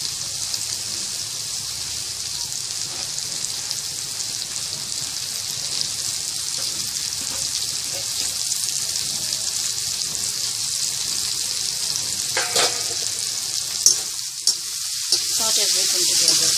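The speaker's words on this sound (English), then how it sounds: "Saute everything together." Spring onions and prawns sauté in a pan for a dry chilli prawn dish, a steady close sizzle of frying with a few faint stirring clinks and scrapes near the end, no talking.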